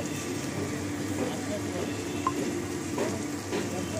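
Spice masala sizzles in a pan for a chicken gravy, a steady fine crackle with a few soft stirring clicks, continuous and even, no voices.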